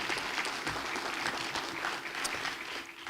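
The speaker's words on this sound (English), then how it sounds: "let's give them a round of applause" Steady audience applause fills a school board meeting room, a dense wash of clapping from a crowd that stays even and sustained throughout with no pause.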